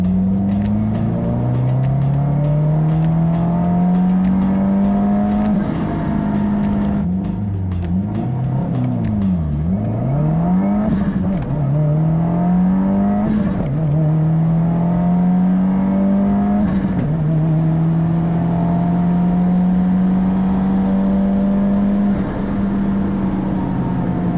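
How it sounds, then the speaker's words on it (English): A 2022 Subaru WRX pulling hard through third gear, its engine note climbing steadily and loud, with a few brief dips at shifts or lift-offs before rising again throughout. "So here we are again for yet another third gear pull."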